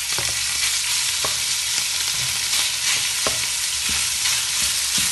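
Marinated beef frying with garlic in oil over medium heat, a loud, steady close sizzle with occasional scraping stirs and small clicks of the utensil against the pan.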